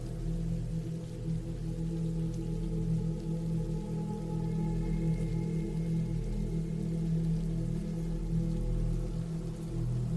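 Steady rain falling, a soft continuous wash of drops with a low rumbling undertone, even and unbroken throughout with no voices.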